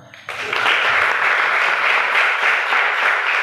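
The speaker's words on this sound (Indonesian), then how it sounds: "Yang perempuan tepuk tangan." The women of a church congregation break into loud, sustained applause that starts abruptly after a brief moment of quiet. The clapping stays steady and close throughout.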